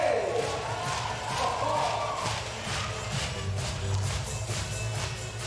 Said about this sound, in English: we're going to give a big round of applause for Team Finland and Team USA